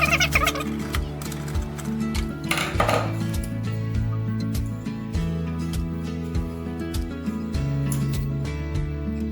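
Plastic lid of a HOROW T37 smart bidet toilet being lifted off after its screws are removed, giving a run of sharp clicks and light clattering knocks over a steady tonal background hum.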